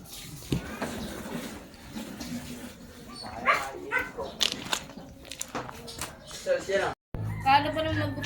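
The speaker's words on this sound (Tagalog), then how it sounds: "Galit yung aso." An angry dog barks in short, sharp bursts, some close and loud, amid lively talk from several people outdoors, with a few yips and whimpers mixed in.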